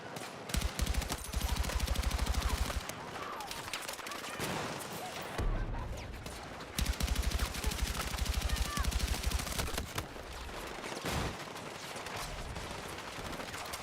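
Light machine gun fire in Battlefield 6 comes in long sustained rattling bursts, loud and continuous with short pauses, and voices talk over it.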